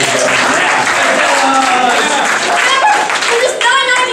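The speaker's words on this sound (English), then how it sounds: "How about a round of applause for these bandanas, ladies and gentlemen." Loud, dense audience applause with clapping filling the whole stretch, voices and cheering mixed in, and a voice speaking near the end.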